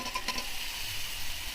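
Drumsticks sizzling in hot fish curry masala in a pan, a steady close frying hiss with a brief stir or two near the start, no talk.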